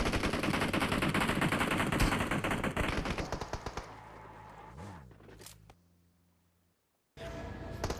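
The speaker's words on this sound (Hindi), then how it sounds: "मैंने उनको स्कारल और AKM से ही इतने हेडशॉट दिए" Rapid automatic gunfire from Scar-L and AKM rifles in PUBG Mobile rattles in dense loud bursts for several seconds, tapers into scattered shots and a brief lull of near silence, then loud firing resumes.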